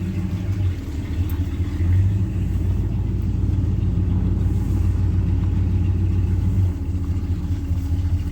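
A 1968 Ford XL with a sticky brake rolls along under a steady, loud, low engine rumble, close by and continuous, with no talking.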